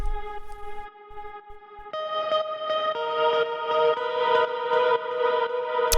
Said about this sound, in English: it's just this guitar open sound here, and then I put it through some echo as well as some reverb